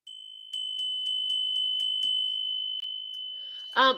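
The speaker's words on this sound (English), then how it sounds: "tap the bell on that for our good fortune" A small bell tapped repeatedly, giving a run of bright pinging strikes over a sustained ringing tone. Near the end a louder, different chime sounds briefly.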